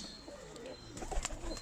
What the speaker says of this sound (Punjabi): ਤੇ ਇਹਨਾਂ ਕੋਲ ਜਿਹੜੇ ਕਬੂਤਰ ਆ ਜੀ